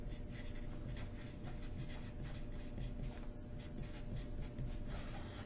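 Writing on a board during a lecture on moments in mechanics: a steady, close scratching and rubbing of the marker or chalk stroking across the surface, continuous with small rhythmic pulses and no talking.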